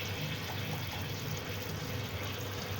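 Water is poured over chicken pieces coated in soy sauce, ketchup and molasses, giving a steady, close, continuous pouring and filling wash without pauses or talking.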